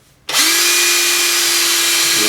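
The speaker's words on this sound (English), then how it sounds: "I'll just use an electric drill. And I'll take a 5-inch or a 5/8 inch wood boring bit here. And we'll drill a hole in this" Electric drill fitted with a 5/8 inch wood boring bit drilling into poplar, a sudden loud start then a steady high whine held at full speed, close and alone.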